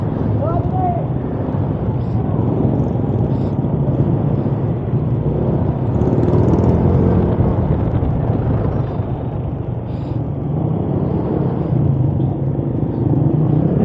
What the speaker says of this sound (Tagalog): So dito medyo traffic dahil yung kalsada ginagawa.